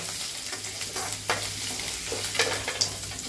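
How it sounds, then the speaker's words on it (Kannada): Garlic and peanuts crackling in hot oil for a dal tadka, a continuous close sizzle broken by light spatula scrapes and stirring taps. "ಈಗ ನೋಡಿರಿ ಫ್ರೈ ಆಗೈತಿರ ರೀ"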